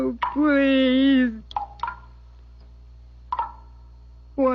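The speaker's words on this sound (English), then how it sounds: "It's dripping off that big leaf." Water dripping off a big leaf in a radio drama: a few sparse, sharp drops spaced seconds apart, following a sustained voice at the start.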